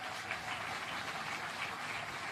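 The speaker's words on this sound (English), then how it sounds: "You can clap for that, folks." An audience applauds steadily at a political speech: a dense, even wash of many hands clapping at moderate distance, with no voices over it.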